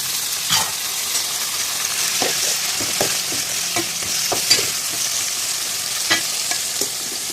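Eggplant sizzles steadily in hot oil in a pan as tomatoes go in, a close, continuous frying hiss broken by scattered clinks and stirring knocks, with no voices.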